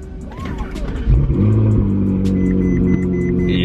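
An expensive rear-engined car cranks and fires up, settling into a loud, steady idle with a deep continuous rumble and a faint high whine above it.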